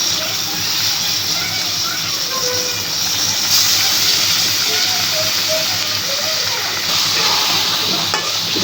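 Hilsa fish pieces fry in spiced masala with cumin powder in a pan, making a loud, continuous sizzling hiss with faint crackles, close up and with no talking.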